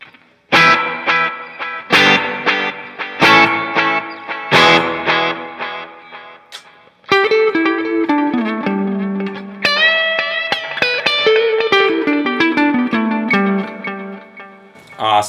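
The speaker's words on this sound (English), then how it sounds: "Echoplex EP1 is next. Again, like lo-fi delay." Guitar played through a TC Electronic Alter Ego V2 pedal set to its Echoplex EP1 lo-fi delay mode, with heavy feedback. Plucked chords and single notes trail into repeating echoes that thicken into a steady, loud wash.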